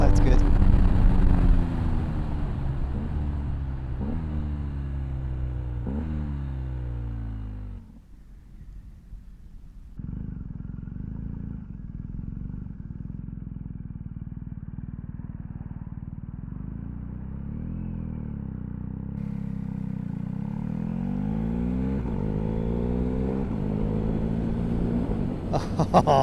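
A Suzuki GSX-S1000GT+ motorcycle exhaust on the move: a steady, moderately loud engine drone that rises and falls in pitch through revs and gear changes, briefly dropping lower midway before building again.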